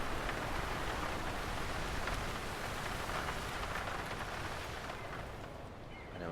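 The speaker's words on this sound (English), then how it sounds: "There's heavy rain." Heavy rain weather in the WRC 8 FIA World Rally Championship game on PS4 Pro: a dense, steady hiss of rainfall that stays loud and unbroken throughout.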